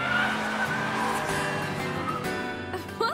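An anime car corners under light braking, with tires squealing and skidding over a steady engine drone that holds loud throughout and rises briefly near the end.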